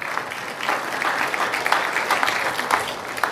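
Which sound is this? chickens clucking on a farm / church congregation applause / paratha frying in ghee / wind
church congregation applause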